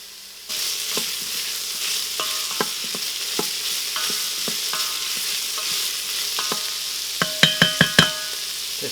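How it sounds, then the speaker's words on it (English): Onions sauté in a Cosori pressure cooker for fifteen bean chili. A steady sizzle starts abruptly and runs throughout, with scattered spoon scrapes and a quick burst of metallic clinks near the end. "So now that we have our onions just softened up a little bit and beginning to get some of that sweetness for flavor"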